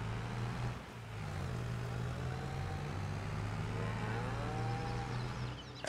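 Cows on a farm moo in long, low calls over steady engine-like background noise, with several overlapping drawn-out bellows.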